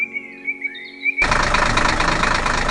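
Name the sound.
red tractor engine running, animated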